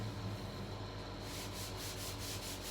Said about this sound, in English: I just decided to go and sand here between my second and last coat.